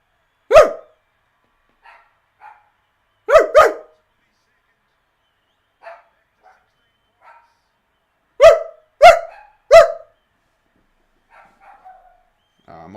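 A person imitates a dog barking, giving sharp bark-like yelps singly and in quick clusters of two or three, loud and close, with faint murmurs in the quiet gaps between.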